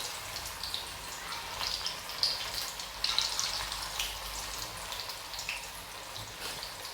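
Onion bhaji (kanda bhaji) fry in hot oil in a kadhai, with batter dropped in by hand. A steady, crackling sizzle runs throughout, and brighter spatters and pops rise above it at moments.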